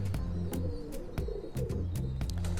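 Sialkoti pigeons, an old breed kept as a pair, coo in soft repeated low throbs close by, with steady background hum and no talking.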